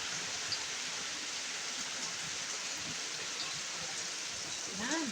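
Heavy rain falls as a steady, dense hiss during flooding outdoors. It is fairly faint and continuous, and a voice briefly murmurs near the end.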